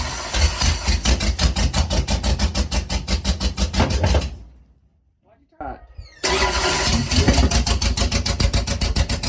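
A 28 special dirt late model race car engine with a carburetor issue cranks rapidly, dies away into a quiet gap, then cranks again in a loud, fast rhythmic chatter; people talk nearby.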